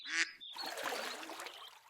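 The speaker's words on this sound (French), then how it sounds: "Un canard." A duck quacks loudly in a short, close call at the start, followed by a brief break and then softer, busy bird-like sound carrying on through the rest of the clip, heard alone with no talk.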